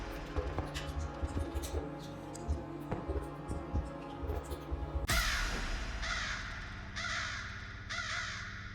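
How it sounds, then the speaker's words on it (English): Crows caw repeatedly in The Stanley Parable, harsh rasping calls that grow louder and more insistent midway, layered over a low murmuring background. "This is just a bunch of crow noises!"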